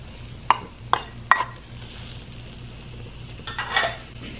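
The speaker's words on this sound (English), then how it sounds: "Now add in the bamboo and chili oil and give it a good mix" Bamboo shoots and chili oil being stirred into red curry in a pot: three sharp utensil clinks against the pot early on, a quieter stretch of soft mixing, then a rattling scrape near the end.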